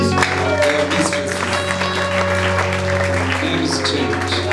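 A church congregation applauds during a Kinyarwanda sermon, a continuous patter of clapping hands over a steady low hum of sustained instrument tones, with no speech on top.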